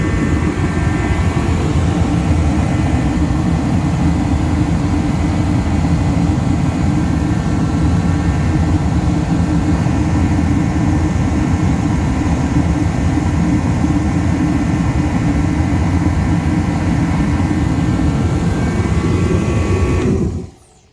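A Reddy kerosene torpedo heater, just repaired and fired up, roars with a steady, loud, broadband rush of fan and burner for about twenty seconds before cutting off abruptly.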